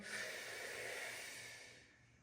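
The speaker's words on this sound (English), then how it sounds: "So you do need to focus on your breathing. Big breaths in" A big breath drawn in during a spinal stretch, one long steady airy inhale that fades at the end, close and soft with no talking.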